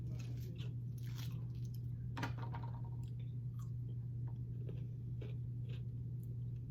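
Pickles are chewed during a taste test, with soft wet bites and squishy mastication close up over a steady low background hum.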